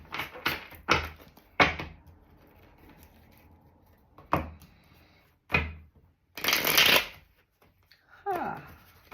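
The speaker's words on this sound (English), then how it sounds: "Do one more shuffle for Capricorn." Tarot cards shuffled by hand in several loud bursts of riffling and rustling, separated by brief near-silent pauses, with a soft papery slide near the end.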